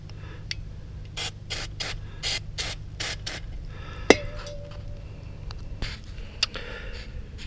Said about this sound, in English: I'm going to clean it off with some brake cleaner.